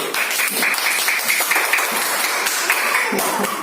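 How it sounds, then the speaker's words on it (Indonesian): Students in a school classroom clap for classmates who understood the lesson, a lively, uneven round of hands with some sharp individual claps standing out, continuing steadily throughout. "Tepuk tangan dulu yang sudah paham tadi."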